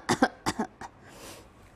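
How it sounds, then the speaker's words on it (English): Two quick pairs of coughs close up, then a single softer one, followed by a breathy exhale. "So you have to cough and breathe into the screen"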